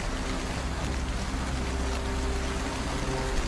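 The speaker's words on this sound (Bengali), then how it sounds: "মাঝে মাঝে বৃষ্টি ঝরে পড়ছে" Monsoon rain falls under dark clouds in a steady, dense patter that holds at an even level, fairly close and without any talking.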